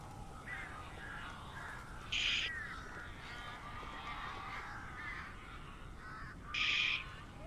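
Hostile crows in the Alan Wake video game give two loud, harsh caws several seconds apart over a steady low ambient drone, with fainter calls in between.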